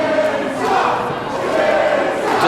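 A wrestling arena crowd in Los Angeles keeps up a steady, loud roar of cheering and yelling for a women's wrestler during a headlock exchange, sustained throughout with no distinct voice standing out.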